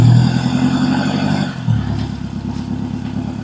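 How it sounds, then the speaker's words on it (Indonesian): A swaying vegetable-delivery truck labours through muddy puddles on a wet dirt road, its engine droning loud and close, with a shift in pitch partway through as it pulls onward. "truk oleng tetap melaju dengan semangat dan gaya khasnya yang keren"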